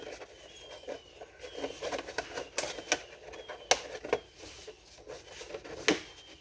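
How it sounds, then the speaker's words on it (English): Knife blade slicing through a plastic milk jug, giving a run of close, faint crackling and scraping ticks with a few sharper snaps, no talk. "Once I cut that line, push my knife in gently."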